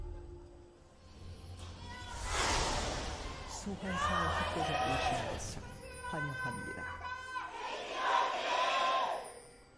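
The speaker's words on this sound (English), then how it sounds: "Feels like almost everyone here in the Seoul Stadium is cheering for KT." A packed stadium crowd in Seoul cheers at a League of Legends LCK Summer 2018 match between KT and Jin Air Greenwings, swelling in loud waves of shouts and applause that rise and fall over the clip.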